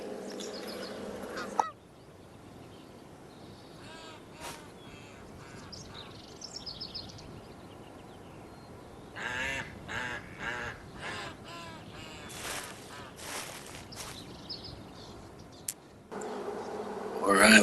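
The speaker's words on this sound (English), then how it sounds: "Murder Row, look at all the ducks and geese." Ducks and geese honking and quacking in the video game Hunting Simulator 2, a flock calling in irregular bursts, some clustered loud passages, over a quiet outdoor ambience.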